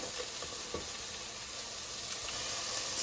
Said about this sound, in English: I have a little bit of olive oil heating up in the pan, and then I'm going to add in my potatoes, my carrots, and my onions, and get those sauteing.